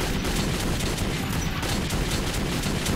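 Heavy gun in the Metro 2033 video game firing a continuous rapid burst, loud and dense, with no talk over it.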